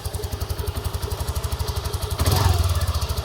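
A Junak M12 Vintage motorcycle engine runs close by with a steady, pulsing thump, then revs up about two-thirds of the way through, growing louder and rougher before holding at higher revs.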